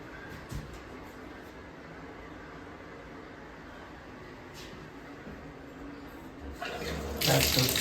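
A bathroom faucet runs steadily, a soft, even hiss of water close by at low level, rising slightly louder near the end.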